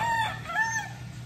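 A gamefowl rooster crows once, close and clear, with a rising then falling call lasting about a second.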